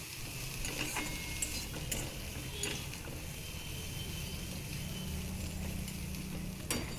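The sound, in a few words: vegetable stalks being stir-fried with spices in a pan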